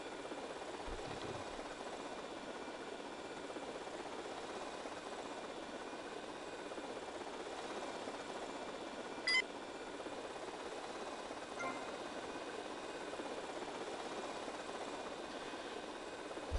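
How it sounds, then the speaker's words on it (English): A helicopter in the GTA Vice City video game flies around, a steady low rotor and engine drone that holds throughout with no one talking. "So does he not see this helicopter flying around?"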